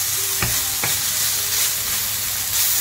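Sticky beef frying in a pan with sauce, a steady loud sizzle with a couple of brief stirring scrapes near the start, no voices.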